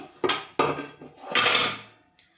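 A metal pressure cooker is lifted out and set down, giving a few loud, close clanks and scrapes of metal on metal with short pauses between, then a faint tap to finish.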